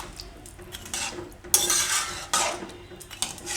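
A spoon stirs milk and cracked wheat in a pot while cooking fada lapsi, a Gujarati sweet. Soft scraping and metallic clinks rise into a few louder strokes against the pot, with no voices.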